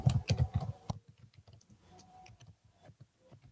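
Someone types on a computer keyboard while making notes in Microsoft PowerPoint. A quick burst of clicking keystrokes comes first, then softer scattered taps, all quiet and close with no one talking.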